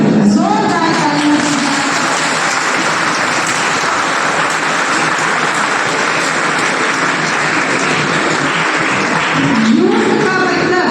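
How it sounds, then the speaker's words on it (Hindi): Loud, sustained applause fills a youth festival gathering at a college, a dense unbroken clatter of many hands clapping from start to finish, with brief voices rising near the end. "जोरदार ताली"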